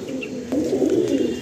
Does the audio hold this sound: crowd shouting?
no